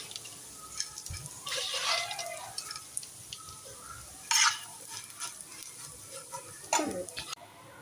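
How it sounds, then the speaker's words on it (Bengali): Dried shrimp frying in oil over low heat for a balachao shrimp mash, giving a soft sizzle broken by sharper crackles and stirring scrapes, close and fairly quiet. "এখন শুটকিগুলো আমি অল্প তাপে ভেজে নিব"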